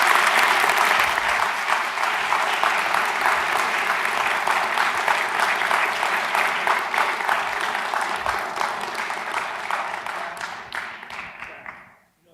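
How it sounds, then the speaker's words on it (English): An audience applauds speaker John Stossel at the end of his talk, dense sustained clapping from a large crowd that holds steady and then fades out at the very end. "if we could just have one more round of applause for Mr."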